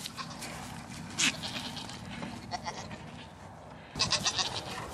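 Dairy show goats bleat in a pen, a few short nasal calls nearby at moderate level over light rustling, with brief bursts of bleating near the start and end.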